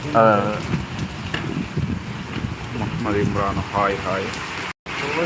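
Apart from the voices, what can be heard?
heavy rain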